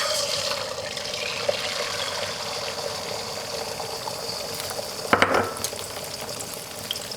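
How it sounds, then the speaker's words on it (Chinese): Beaten egg poured into hot oil in a wok gives a steady, bright frying sizzle throughout. A brief louder crackle and splash comes a little after five seconds, with no talking. "起锅放油，油热以后放入蛋液"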